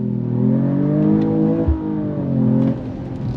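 A 2025 Mercedes-AMG E53 performance sedan accelerating hard with piped-in engine sound, its loud engine note climbing steadily through the gears with brief dips at each paddle upshift, close and continuous.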